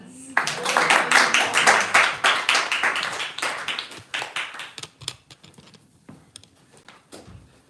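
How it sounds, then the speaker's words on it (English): Audience applause at a devotional gathering at the Bhakti Center: a burst of close, lively clapping that gradually thins into scattered individual claps and fades out. "So let's give him a round of applause."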